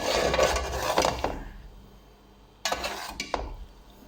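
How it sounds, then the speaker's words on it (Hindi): A spoon scrapes and stirs semolina roasting in a pan over a medium flame for flaxseed laddus, a few rough scraping strokes, a brief lull, then more scraping, up close. "साथ साथ हम चम्मच चलाते रहेंगे।"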